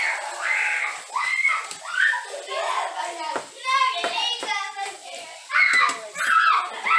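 Children playing loudly indoors, with bursts of excited kid chatter, shouts and squeals coming in waves, along with some clapping or hand sounds, fairly close and lively throughout.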